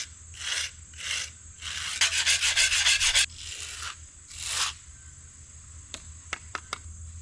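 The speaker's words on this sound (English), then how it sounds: "So I'm gonna start by just scraping all the sides where I have the concrete that's finished already." Rough scraping of finished concrete off the sides of a fresh pour, a series of close rasping strokes with a brief rapid flurry in the middle and a few light taps at the end.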